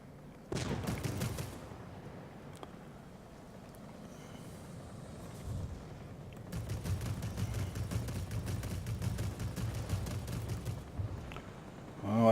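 Rapid aircraft cannon fire from a Me P.1102 B in a flight combat video game, rattling in two long bursts over a low engine drone, moderately loud with no talking.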